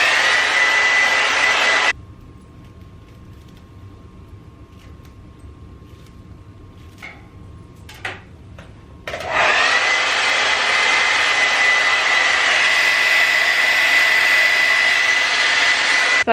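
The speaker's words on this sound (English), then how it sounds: "I'm just gonna use the heat setting on the blow dryer and blow dry it" A hair dryer on its heat setting blows with a loud, steady rushing whine while drying a frontal wig install, cuts off for several seconds of quiet, then roars back on and keeps running.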